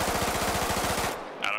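Rapid automatic gunfire from a weapon in the military video game Arma 3, a loud, steady burst of closely spaced shots that stops abruptly, followed by a brief faint click.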